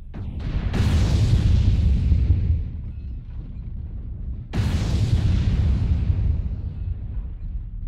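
Two loud potato cannon shots boom in close succession, each a sharp blast trailing off into a long rumbling decay, the second following about four seconds after the first.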